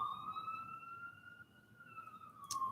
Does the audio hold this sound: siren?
yes